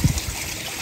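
Water trickles steadily from a newly added shower feature into a garden pond, a close, continuous splashing dribble with no talking.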